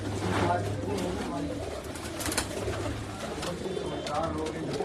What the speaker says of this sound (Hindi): आरिफ भाई, आपके कबूतर तो बहुत अच्छे हैं।